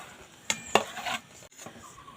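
Dry mustard seeds scraped and stirred in a metal wok, with a few sharp clinks and rattles, close and moderately loud, no voices.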